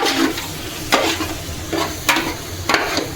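Sopas being stirred in a pot, seasoned with fish sauce and a little annatto: a few distinct scraping strokes of a utensil at a steady pace over a soft sizzling, bubbling background, with no talking.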